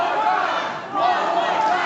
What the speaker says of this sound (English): Oh, this crowd is bloodthirsty.